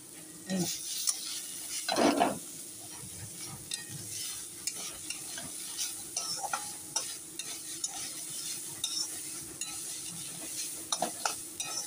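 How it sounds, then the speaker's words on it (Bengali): Chopped banana stem frying with poppy seed paste in a pan, a faint sizzle under repeated spatula stirring and scraping, with a couple of louder metal clanks near the start and no talk. "ভাজাটা আর একটু হোক, আর একটু ভাজা ভাজা হলেই হয়ে যাবে"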